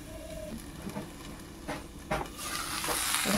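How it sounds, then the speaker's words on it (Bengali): Vegetables with turmeric and green chilli sizzle steadily in a pan while a spoon stirs them, giving soft scraping strokes at irregular intervals over a constant close frying hiss. "এখন আরেকটু নেড়ে নেব, কিছুটা হয়ে আসছে, আরেকটু নাড়তে হবে"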